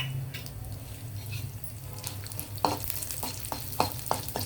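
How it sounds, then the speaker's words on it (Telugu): Lentils sizzle in hot oil as cumin and mustard seeds go in, a steady fry with scattered pops and a few sharper crackles toward the end, close and fairly quiet with no talking. "పప్పులు కొంచెం వేగిన తర్వాత ఇందులోకి మనం జీలకర్ర ఆవాలు వేద్దాము"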